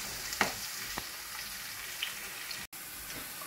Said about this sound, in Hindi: और हम इसको लगाएंगे तड़का।